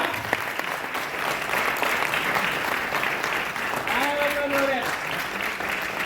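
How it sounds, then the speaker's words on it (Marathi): An audience at a Marathi speech event applauds with dense, steady clapping across the whole stretch, and a voice is briefly heard over it. "घ्या टाळ्या वाजवा"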